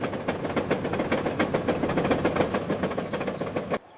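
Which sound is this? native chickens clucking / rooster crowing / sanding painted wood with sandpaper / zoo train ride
zoo train ride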